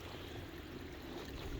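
Small creek of rainwater running over a bike trail after heavy rain, a steady close trickling wash with low rumble and no voices.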